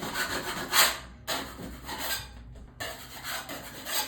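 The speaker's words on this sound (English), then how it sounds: "So I'm gonna scrape off any high points, ridges." A drywall knife scrapes high points and ridges off a coat of joint compound in repeated close rasping strokes, with brief pauses between passes and no talking.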